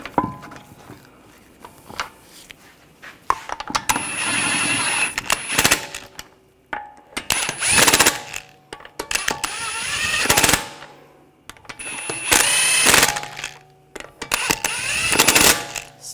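Lug nuts being threaded by hand onto the wheel studs of a Nissan Rogue 2.5L, heard as bursts of metallic clicking and rattling separated by quiet pauses, close by with no talking.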